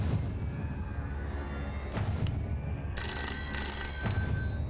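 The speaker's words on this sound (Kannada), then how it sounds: "ಇರೋ KB ಫೋನ್ ಮಾಡೋಣ" A telephone rings on an outgoing call, with a steady electronic ringing tone that pauses and then sounds again, fairly loud and clear over a low background hum.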